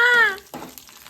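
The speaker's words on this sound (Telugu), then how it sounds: "తాలింపు వేస్తున్నా బాగా మాడినాయి" Hot oil sizzles sharply as tempering spices hit the pan and burn dark, with a brief tonal sound at the start and a crackling fry trailing off.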